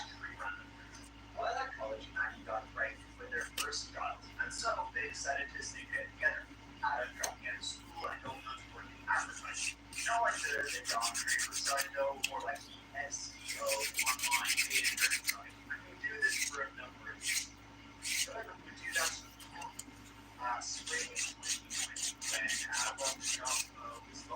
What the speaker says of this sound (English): So I'm just repeating the same process here on every nail with my filing